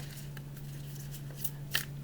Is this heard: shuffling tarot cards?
yes